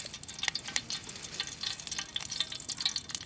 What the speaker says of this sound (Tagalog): Luto tayo ng tuyo.